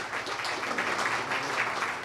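A crowd at a New York City FC farewell event applauds in a dense, steady patter of many hands clapping together.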